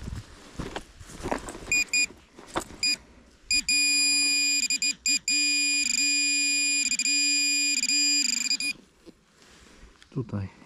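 Metal detector during a field dig sounds a run of loud, steady electronic tones that repeatedly cut in and out over several seconds, with someone speaking briefly before and around them.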